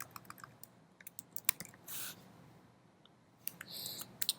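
Typing on a computer keyboard in a design program, with quiet irregular key clicks and a few sharper taps in short bursts, close by and alone.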